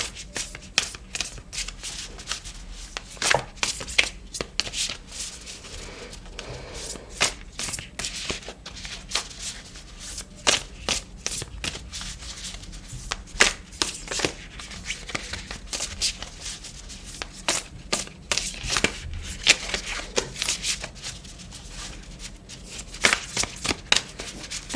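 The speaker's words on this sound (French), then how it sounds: "Je vais peut-être prendre une carte du tarot." Tarot cards shuffled steadily and close up, a continuous run of crisp riffling flicks and soft slaps repeating throughout with no talking.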